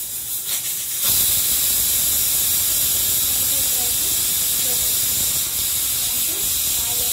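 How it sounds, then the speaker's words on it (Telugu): Tempering spices hit hot oil for an ivy gourd fry, setting off a sudden burst of loud, continuous hissing sizzle after a second of quieter sound, with faint crackles scattered through it and no speech. "దొండకాయ కూరకి పోపు వేసుకుందాం."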